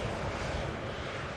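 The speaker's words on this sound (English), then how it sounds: "And the Air France just taxiing past." An Air France airliner taxies past at Manchester Airport, a steady, loud broadband jet engine roar with wind buffeting, continuous throughout with no speech.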